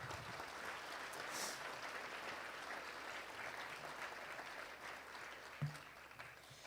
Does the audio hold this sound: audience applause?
yes